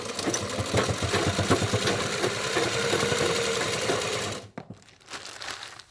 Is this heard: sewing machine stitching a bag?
yes